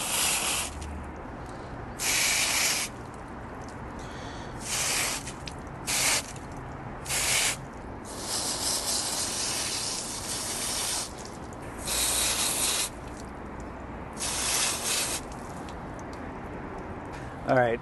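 A Japanese black pine bonsai being treated for woolly adelgid gets repeated hissing bursts from a spray bottle, about ten short sprays in an uneven rhythm, close and clear, with a person speaking in between.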